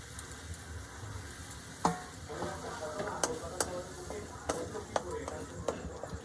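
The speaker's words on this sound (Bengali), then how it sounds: "দুধের মধ্যে আমি ছানাটাকে দিয়ে খুব ভালোভাবে দুধের সঙ্গে মিশিয়ে দেব" Chhana being stirred into hot milk in a wok while making kheer, with soft scraping and stirring sounds, a faint sizzle underneath and a few sharp clicks of the utensil against the pan.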